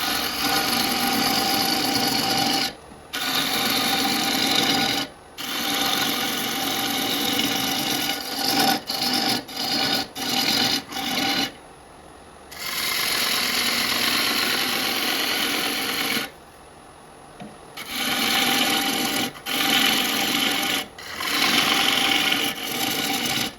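A wet wood bowl spinning on a lathe gives off a rasping, whirring cut in long bursts, broken by short and longer pauses as the tool comes off the wood. No one speaks.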